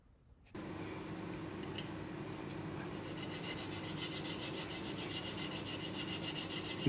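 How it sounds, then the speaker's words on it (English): A bone guitar nut being sanded to fit its nut slot, a steady close rasping rub that starts abruptly and continues evenly with a faint rhythmic pulse, no talking. "just sanding it a bit to get it to fit the nut slot."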